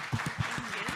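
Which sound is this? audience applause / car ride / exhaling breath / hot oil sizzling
audience applause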